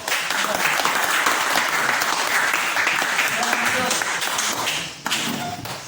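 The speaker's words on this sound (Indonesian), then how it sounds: "kita berikan aplaus kepada kelompok" A classroom audience applauds a student group with loud, sustained clapping that tapers off near the end, followed by a brief thump and a voice speaking.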